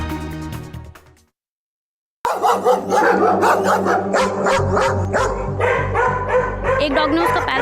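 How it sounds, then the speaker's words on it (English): A stray dog barks in short, repeated bursts after a brief silence, mixed in with loud voices and busy background sound. "There is a stray dog bite, stray dog attack."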